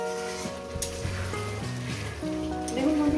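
Katla fish curry masala sautés in oil with a steady, close sizzle and crackle that carries on beneath tonal background music.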